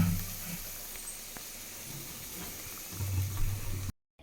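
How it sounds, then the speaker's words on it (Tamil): Gravy bubbles in a pot on the stove, a faint, steady simmering hiss with soft low bubbling that swells near the end before cutting off. "இப்போ நல்லா கொதிச்சு வந்துருச்சு"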